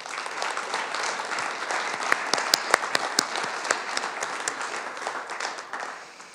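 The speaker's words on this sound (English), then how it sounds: "if you'd help me give them a round of applause" Applause from an energy conference audience for an event crew: a dense, continuous patter of many hands with a few sharp, close individual claps standing out midway, then tapering off near the end.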